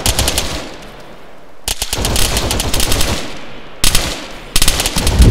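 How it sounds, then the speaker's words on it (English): Loud automatic gunfire from the Arma military shooter game rattles in long rapid bursts, with short pauses between them, up close. "Oh, look at Antonio shooting through the fucking fence."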